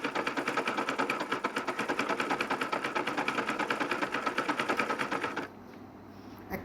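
Sewing machine stitching clothes, a steady rapid rhythmic whir-clatter running for about five and a half seconds before stopping, close and loud, with only a faint hum after.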